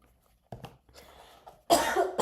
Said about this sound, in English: That's like the first cough.